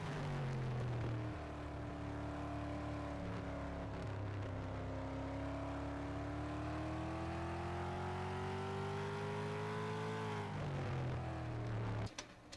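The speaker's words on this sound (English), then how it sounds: "Have a gander at the late model sounds that we use for the Budweiser All-Star Series." Late model stock car engines from a racing game sound pack used in the Budweiser All-Star Series at Greenville-Pickens, a loud sustained roar whose pitch climbs slowly and steadily, then drops away and revs again near the end.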